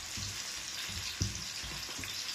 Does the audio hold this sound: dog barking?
no